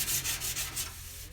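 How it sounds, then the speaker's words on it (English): Steady back-and-forth scraping of 150 grit sandpaper over primer on a Toyota Supra body, close and fairly loud with a regular rhythmic stroke and no talking. "If you guys are wondering why it's taking me so long to sand this, it's because I'm using 150 grit"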